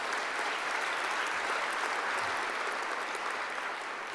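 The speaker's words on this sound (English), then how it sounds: "let's give them a round of applause" A conference plenary audience applauds steadily, a dense even wash of many hands clapping that holds for several seconds without talk.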